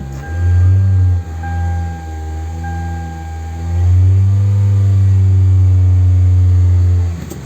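A car engine that had a completely dead battery catches after cranking and settles into a loud, steady idle near the listener, then is revved up in a sustained rise before holding at the higher speed.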